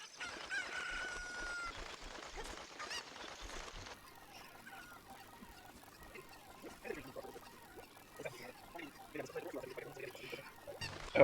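Video game chicken clucking and rooster crowing, a busy mix of short repeated calls with other game sounds running through the clip at moderate, steady loudness.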